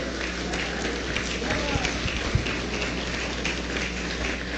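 A church congregation applauds in a dense, continuous patter of clapping that fills the whole stretch, with a voice faintly present underneath.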